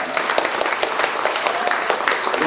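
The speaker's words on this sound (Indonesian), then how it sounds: "Berikan tepuk tangan." An audience applauds after a political speech, with steady dense clapping from a close crowd for a couple of seconds and no break.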